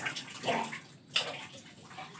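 A bathroom water tap sputters and gushes unevenly as the supply runs out in a tower building, with irregular bursts of splashing flow and a brief drop-out midway.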